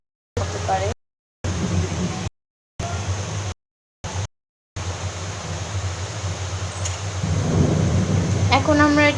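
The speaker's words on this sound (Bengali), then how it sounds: "আপনারা একটু আওয়াজ শুনতে পাচ্ছেন, সেটা বৃষ্টি হচ্ছে।" Rain falls steadily outside during cooking, a continuous broadband hiss that thickens toward the end, with low rumbling underneath; the sound cuts out in several short gaps early on, and faint kitchen clatter shows near the close.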